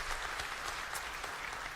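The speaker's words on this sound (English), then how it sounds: "That's worthy of applause right there." A church congregation applauds, steady mid-level clapping from many hands spread evenly through the short moment, with no voices over it.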